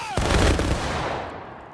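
A rifle volley fired at a memorial service for a brigadier general rings out as one loud, sharp crack at close range and then rolls away in a long, fading echo.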